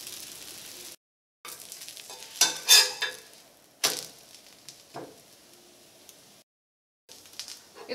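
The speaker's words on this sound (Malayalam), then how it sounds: "ദോശക്കല്ലിലുണ്ടാക്കുമ്പോൾ നന്നായിട്ട് മുരിഞ്ഞ് വരും ദോശ." Dosa cooking on a stone dosa griddle: soft sizzling and scraping of a spatula turning the batter, with intermittent clinks and gaps of silence, close and moderately quiet.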